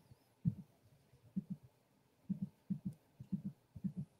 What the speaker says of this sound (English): I can hear somebody's heartbeat.